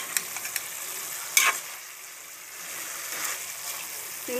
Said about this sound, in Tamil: சிம்மில் வச்சு கிளறிக்கிட்டே இருக்கணும், இல்லாட்டி அடி பிடிச்சிடும்.